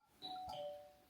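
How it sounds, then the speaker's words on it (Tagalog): A doorbell rings once at a home during a birthday gathering, a clear two-tone chime that sustains and slowly fades, fairly close with no talk over it. "The bell."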